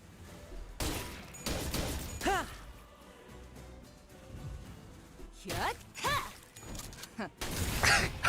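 Gunfire from the video game Limbus Company, several loud bursts of shots and crashing impacts spread across the clip, with game voices and effects in between.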